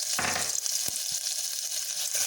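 Ginger garlic paste frying in hot oil in a pan for a potato tomato gravy, a loud steady sizzle with a few quick stirring scrapes, close up and with no talking.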